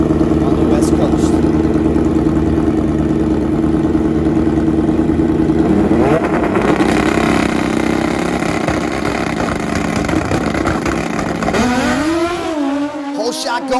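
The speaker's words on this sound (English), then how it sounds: "keeping motorcycle drag racing alive on the West Coast" Drag racing motorcycles roar down a West Coast strip, a loud sustained engine howl that builds in pitch through the run, with a second machine's revs sweeping upward near the end; crowd or announcer voices sit faintly underneath.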